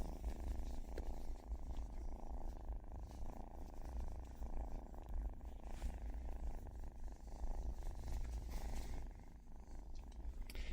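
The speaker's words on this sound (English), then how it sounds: "So many purrs. Can you hear this little purrs?" A kitten purrs continuously up close, a low rumbling hum with a steady rhythm and no talking.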